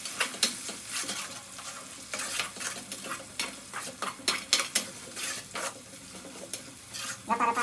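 Cut tomatoes roast in a hot pan, sizzling steadily while a utensil stirs and scrapes them vigorously, with repeated metallic clinks against the pan close up and no talking.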